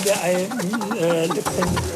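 Chickens cluck and warble close by in a short burst of varied, rising and falling calls, with some background noise.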